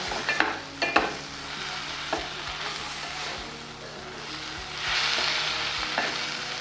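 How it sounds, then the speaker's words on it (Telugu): Crushed green chillies sizzle in a pan of frying gongura chutney as it is stirred, with a steady close frying hiss, a few clinks of the spoon and a louder surge of sizzling toward the end. "ఈ టైంలో ఒక 3 పచ్చిమిరపకాయలు ఇలా చిదిమి వేసేయాలండి."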